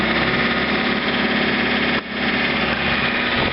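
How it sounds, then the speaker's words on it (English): Small engine of a John Deere 110 tractor with snow blower attachment running at high throttle, a steady loud buzzing drone with a brief dip partway through before it settles back to full speed. "We'll give it some more throttle."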